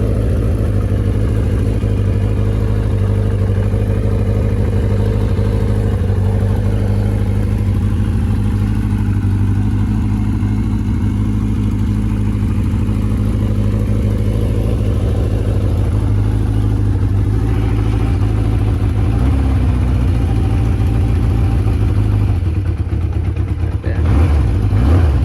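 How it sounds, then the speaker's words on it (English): A KZ1000R or CB1100F motorcycle engine idles with a slightly lumpy, uneven beat, a steady close mechanical drone that runs without a break and shifts briefly near the end. "But you can also kind of hear the idle is a little lumpy"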